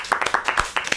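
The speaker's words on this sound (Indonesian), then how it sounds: "Tepuk tangan dulu dong buatnya." A studio audience on an Indonesian talk show breaks into a short burst of hand clapping, about eight quick, uneven claps close to the microphone with no talking.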